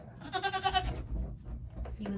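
A baby goat in a DIY goat barn gives a wavering bleat up close, followed by softer low rustling and a second short cry, with a person speaking quietly nearby.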